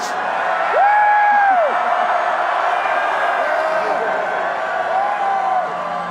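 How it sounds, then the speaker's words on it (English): A large crowd applauds and cheers for North Dakota State Bison football players, FCS national champions, standing on a stage. A steady wash of clapping runs throughout, with a couple of rising whoops above it. "How about a round of applause for the guys up here in the stage?"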